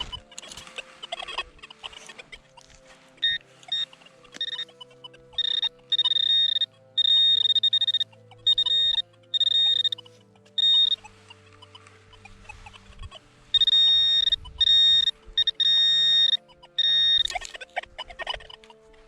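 A metal detector sweeping a field sounds repeated bursts of high, steady electronic tone in short blocks, some longer and some clipped, loud and close, with faint handling noise between them.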